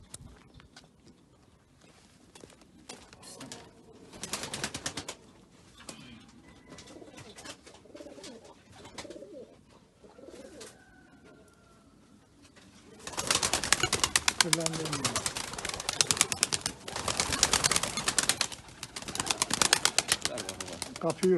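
Pigeons coo in a loft, soft repeated low calls near the start, then a loud stretch of wing flapping and scuffling in the second half, with a voice talking at times.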